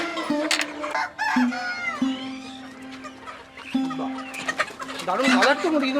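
Desi country chickens at a crowded poultry market in Bangladesh, clucking and squawking repeatedly in close, busy bursts, with a rooster-like call among them and people talking throughout.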